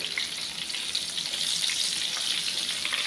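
Steady, close hiss and crackle of eggplant frying in hot oil, continuous throughout with no talking.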